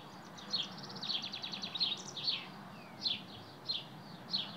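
Birds sing in short, repeated bright chirps and trills, about seven phrases spaced a second or so apart, soft and somewhat distant over a steady low hum.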